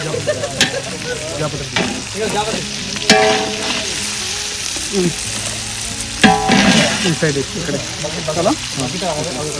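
Onions frying in a pot while being stirred, with a steady sizzle, repeated scraping strokes and louder bursts as the spoon turns them; people talk over the cooking.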